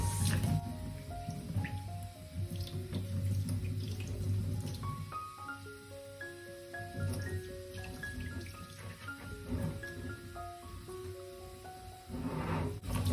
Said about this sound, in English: I'm not sure how much you're supposed to rinse it till it runs clear, I guess.